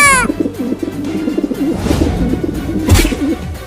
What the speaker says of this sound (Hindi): कबूतर की आवाज आ रही है इस भगोने के अंदर से